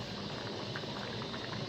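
A potato curry (aloo bhujia) bubbles at a boil in a cooking pot, a steady close gurgling simmer with no voices.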